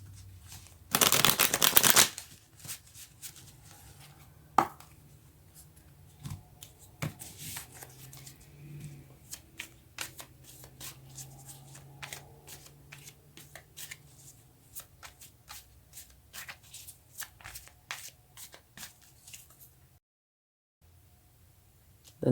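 Tarot cards are shuffled by hand close by, with one loud riffle burst near the start and then many soft, irregular flicks and taps of the cards.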